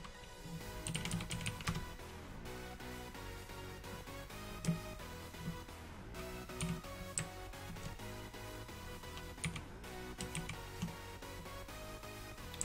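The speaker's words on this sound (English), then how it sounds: "You can hear me clicking." A computer keyboard clatters with quick, irregular bursts of clicky keystrokes, pausing briefly between flurries, close and fairly quiet.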